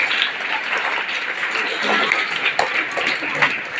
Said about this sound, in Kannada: ಜೋರಾದ ಚಪ್ಪಾಳೆ ಎಲ್ಲ ಶಿಕ್ಷಕರಿಗೆ ಕೊಡಬೇಕು